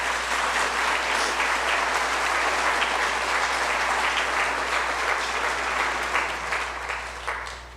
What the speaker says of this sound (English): So thanks again, another round of applause.